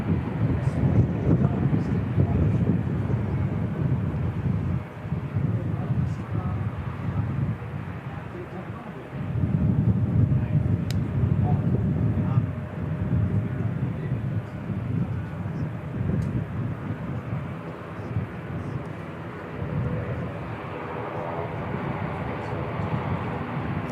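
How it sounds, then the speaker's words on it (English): ATR turboprop airliner at Christchurch Airport, a steady low engine drone rising and falling over the whole stretch, buffeted by wind noise on the microphone, with occasional voices in the background. "Sounds like that delayed ATR heading out shortly."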